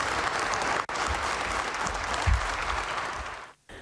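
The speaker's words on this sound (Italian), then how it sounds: "con Giuseppe Conte, uscito da Palazzo Chigi tra gli applausi, dalle finestre dei dipendenti" Office employees clapping from the windows of Palazzo Chigi as Giuseppe Conte leaves, a continuous wash of applause for several seconds with a few low thumps underneath, cut off abruptly near the end.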